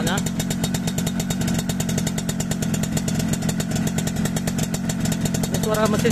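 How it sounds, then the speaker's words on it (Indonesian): Close, steady buzzing of a 2004 Yamaha RX King two-stroke motorcycle engine in Medan style, running continuously at a raspy, chainsaw-like idle with no pauses throughout. "Ini suara mesinnya pun bersih kali nih."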